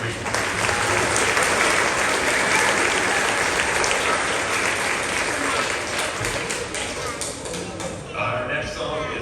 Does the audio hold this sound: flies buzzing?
no